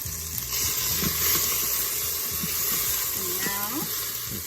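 Food sautés in a pan with a steady hiss and crackle of frying, under intermittent talk from nearby voices.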